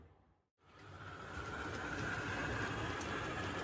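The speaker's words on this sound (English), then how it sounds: "a couple of trains rumbling around now" O gauge model trains rumble around a layout track, a steady low roar that swells in after a brief lull and holds at moderate loudness.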